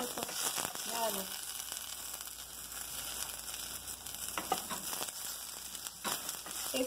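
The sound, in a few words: frying epazote leaves and onion in a pan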